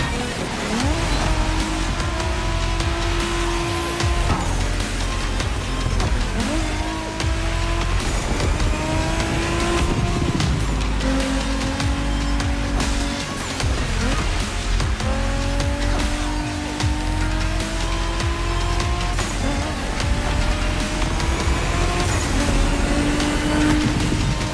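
Japanese drift cars racing in The Crew Motorfest, loud engines revving and shifting in repeated rising sweeps with tire squeal and skidding, a continuous close roar with no talk.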